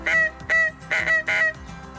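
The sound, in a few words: goose call imitating goose honk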